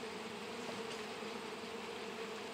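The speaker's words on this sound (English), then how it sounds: "Did I close a bee into the seal?" A bee trapped inside a sealed jar during an alcohol wash of untreated hives, giving a continuous, steady, faint buzz that holds the same pitch throughout.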